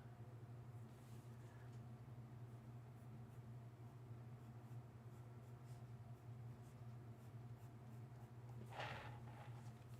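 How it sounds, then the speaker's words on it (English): A pastel chalk pencil drawing on paper during a craft session, soft faint scratching strokes over a quiet low room hum, with a brief louder scrape near the end. "And this is just a pastel chalk pencil."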